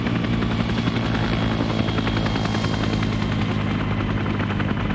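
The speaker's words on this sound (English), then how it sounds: "I don't see Rannick in the helicopter" Video game helicopter rotor in an Arma Vietnam SOG mission, a loud steady thudding chop with engine drone that fills the whole stretch, no talk.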